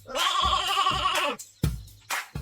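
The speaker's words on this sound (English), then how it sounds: "It's a sheep." A sheep bleats once in a long, wavering call, followed by two shorter, broken bleats after a brief pause, all close and clear with no talking over them.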